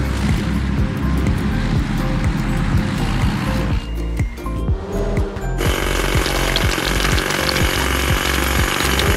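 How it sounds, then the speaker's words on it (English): A hydraulic hammer breaking large rocks in a truck video game, rapid repeated mechanical pounding with a brief lull midway before the hammering resumes at full intensity, loud and close. "Hydraulic hammer."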